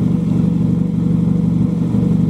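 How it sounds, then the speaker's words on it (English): Aftermarket exhaust on a lowered stance car idles and burbles loudly, recorded right beside the tailpipe, a steady deep pulsing rumble with no speech. "I'm right next to the exhaust, so that's how the exhaust sounds."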